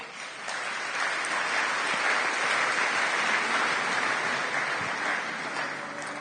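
A church congregation at a sermon clapping together in sustained, steady applause that fills the room, a dense even wash of hand claps lasting throughout.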